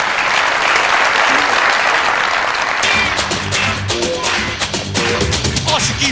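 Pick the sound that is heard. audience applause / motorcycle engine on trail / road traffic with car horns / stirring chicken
audience applause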